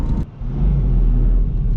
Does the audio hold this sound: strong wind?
no